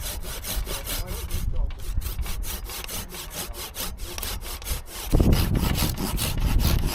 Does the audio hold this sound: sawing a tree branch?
yes